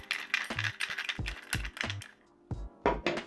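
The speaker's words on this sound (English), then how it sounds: "just unscrew the pommel" Metal pommel of a OneReplicas Super Stunt Luke lightsaber being unscrewed, a close series of small metallic clicks, ratcheting rattles and clinks in uneven bursts, with no talking.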